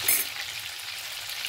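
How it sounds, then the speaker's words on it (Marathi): Butter and a little oil sizzle in a pan for tempering pav bhaji, a steady bright hiss with a brief sharper crackle at the start, close and alone. "चला तर आपण आता भाजीला फोडणी देऊया।"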